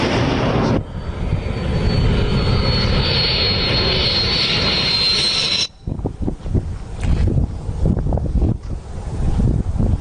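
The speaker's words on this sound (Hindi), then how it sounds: "अभी आप अपने स्क्रीन पर MiG-29 देख रहे हैं।" A Russian-built MiG-29 twin-engine fighter jet roars loudly and steadily as it flies near the Line of Actual Control, then cuts off abruptly into a choppier, gusting rumble that fades and returns.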